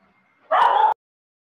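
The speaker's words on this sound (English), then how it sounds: "Is the dog too loud?" A dog gives a single sharp, loud bark of about half a second, close by, with silence before and after.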